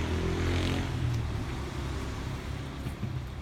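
A Yamaha DragStar 1100 motorcycle engine idles steadily with a low, rumbling drone, close by and continuous, with no talking.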